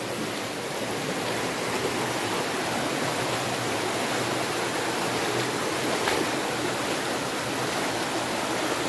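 A stream rushes and burbles steadily throughout, an even, moderately loud flow with no voices.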